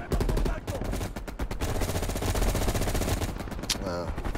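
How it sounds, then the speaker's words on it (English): Rapid automatic gunfire from a Call of Duty Black Ops Cold War campaign battle, loud and nearly continuous bursts across the whole stretch, dense with layered game sound effects and no talking. "I'm trying to shoot through this damn crate"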